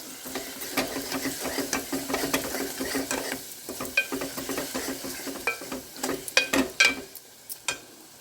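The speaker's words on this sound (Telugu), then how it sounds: "ముక్కలు కొంచెం రెండు మూడు నిమిషాలు నూనెలో ఫ్రై అవుతూ ఉంటాయి" Vegetable pieces fry in oil in a pan while a utensil stirs them, a continuous sizzle broken by repeated scraping and metallic clinks that grow sharper toward the end.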